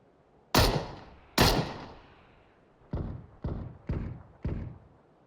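Six sharp gunshots ring out in PUBG: Battlegrounds during a battle-royale firefight: two loud blasts with long echoing tails, then a quicker, somewhat softer run of four, each cracking on its own with no speech.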